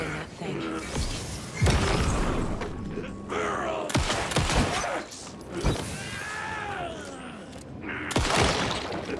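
Gunfire in the video game Alan Wake 2, sharp loud shots and crashing impacts in irregular bursts amid other game effects, with someone talking over them.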